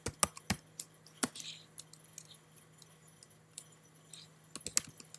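Keys on a computer keyboard tapped in short irregular bursts to enter a file name, crisp clicks near and alone with quiet pauses between groups.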